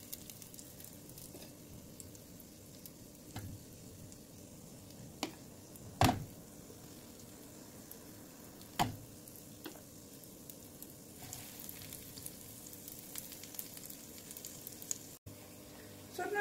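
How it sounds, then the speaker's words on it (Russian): Oat-flour pancakes fry in heated oil over low heat in a pan, giving a soft continuous sizzle broken by occasional clicks and knocks of a utensil. "Когда масло разогрелось, выкладываем оладушки, жарим, как самые обычные оладьи."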